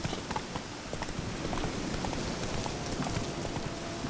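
A horse's hooves clip-clop along steadily in the rain in The Witcher 3, a dense patter of hoof falls blended with constant rainfall hiss and no voices.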